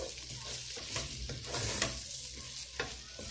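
Food frying in a pot while rice with minced-meat balls is prepared, a steady close sizzle with brief stirring scrapes and light clinks throughout, no voices.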